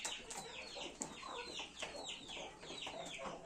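Hens in a backyard flock cluck repeatedly in short, uneven bursts, fairly close and moderately loud, with no talking.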